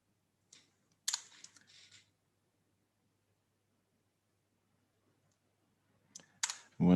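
A few quick clusters of close computer keyboard clicks and key taps during Firebase Firestore setup, separated by a long quiet gap, with a louder burst of noise at the very end.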